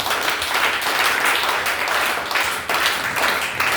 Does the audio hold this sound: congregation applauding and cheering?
yes